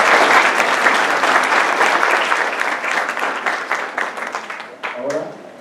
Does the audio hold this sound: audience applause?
yes